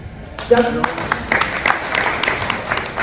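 Town hall audience in Douglas County clapping: scattered, moderately loud applause begins abruptly and carries on over a speaking voice.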